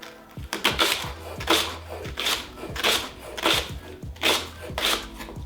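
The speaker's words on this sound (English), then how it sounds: "So just cut that into pieces." A knife cutting thick rhubarb stalks into pieces, striking the board in a steady series of about nine crisp chops, close and distinct with brief pauses between them.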